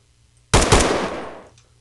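A single loud burst of AK rifle fire in a Minecraft DayZ mod game rings out abruptly and decays over about a second, alone without talk.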